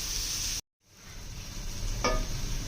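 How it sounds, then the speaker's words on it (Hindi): Carrots fry in a pan for egg fried rice, giving a soft, steady sizzle. The sound drops out briefly, then returns, with a short clink of a utensil partway through. "गाजरें जो है वो पहले फ्राई कर लेनी है"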